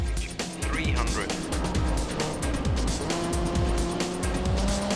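A rally car races at speed in a rally video game: a loud, revving engine with shifting pitch and some tire noise plays continuously beneath a narrator's voice.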